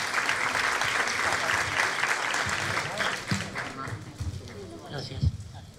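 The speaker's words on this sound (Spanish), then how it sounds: "Así que bueno, damos un fuerte aplauso." Applause from the audience at an entrepreneurship law talk, dense and steady at first, then thinning into scattered claps and murmuring voices as it fades out.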